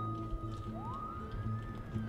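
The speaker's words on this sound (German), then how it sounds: "das ist der Krankenwagen." A siren's rising wail sounds over a low engine drone, moderately near, with no speech; an ambulance siren in the city-building game SimCity.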